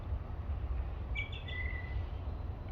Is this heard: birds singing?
yes